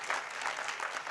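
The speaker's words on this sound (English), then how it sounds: "another round of applause" Conference audience gives a round of applause, steady dense clapping at moderate volume with no talking.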